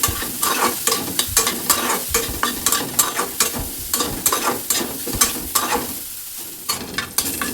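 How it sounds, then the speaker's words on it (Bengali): Soybean chunks, washed in hot water, fry in a pan under a constant sizzle, with quick rhythmic spatula scrapes and knocks close up throughout and a brief lull near the end. "সোয়াবিনগুলো গরম জল দিয়ে ধুয়ে নিলাম, ধুয়ে ভেজে নিচ্ছি।"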